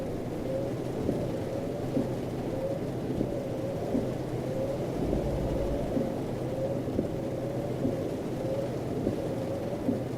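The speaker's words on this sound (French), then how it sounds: "Il pleut comme vache qui pisse" Heavy rain pours steadily in a truck-driving game, Euro Truck Simulator 2, with a dense hiss of drops and low rumbling thunder underneath, heard up close without speech.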